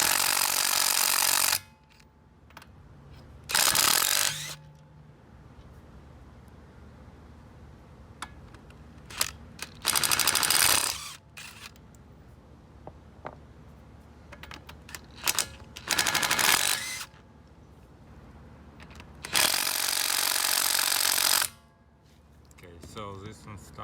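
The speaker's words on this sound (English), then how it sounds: "we'll see if I'll be able to remove it with this impact wrench" Air impact wrench working on a stuck brake caliper bolt of a Volkswagen Jetta TDI Mk5 during a brake pad and rotor job, firing in four or five loud hammering bursts of about one to two seconds each, with quiet gaps between them.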